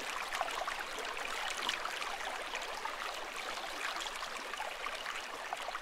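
Fudo Waterfall in the mountains of Chichibu, Saitama, flows with a steady, even hiss of falling water, moderately distant and unbroken, with no voices.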